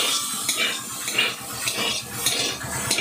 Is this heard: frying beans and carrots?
yes